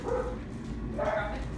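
A dog barks and yips twice in a short, close outdoor moment, with steady background noise between the calls.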